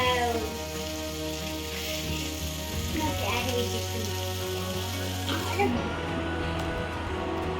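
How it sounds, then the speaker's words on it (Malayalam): Fish pieces fry in hot oil in a pan in a home kitchen, giving a continuous loud crackling sizzle throughout, with some clatter and water-like sounds mixed in and a louder hiss near the end. "അപ്പൊ ഞാൻ എന്താ മീൻ പൊരിക്കാൻ വെച്ചിട്ടുണ്ട്"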